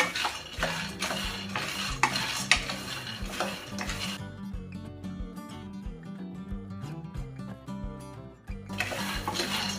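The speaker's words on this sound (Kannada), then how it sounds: "ಸೊ ಸ್ಟಾರ್ಟಿಂಗಲ್ಲಿ ನೀವು ಮೀಡಿಯಂ ಫ್ಲೇಮಲ್ಲಿ ಇಟ್ಕೊಂಡು ಒಂದು 5 ನಿಮಿಷ ಹೀಗೆ ಫ್ರೈ ಮಾಡ್ಕೊಳ್ಳಿ." Peanuts dry-roasting in a pan over a medium flame, stirred with a utensil that scrapes and clinks against the metal in steady strokes, with music playing underneath throughout.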